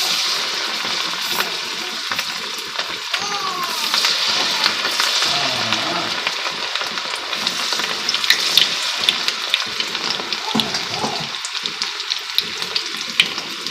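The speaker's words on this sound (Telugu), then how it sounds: "ఇప్పుడు దీన్ని డీప్ ఫ్రై చేసుకుందాం" Cauliflower pieces for gobi 65 deep frying in hot oil, a continuous close bubbling sizzle with crackling pops scattered across the whole stretch, no talk.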